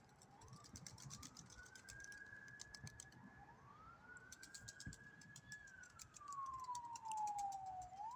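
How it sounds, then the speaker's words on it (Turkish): An ambulance siren wails and swoops in the distance, passing by over faint street ambience on a rainy day, with bird calls scattered in the background. "Ambulans gidiyor."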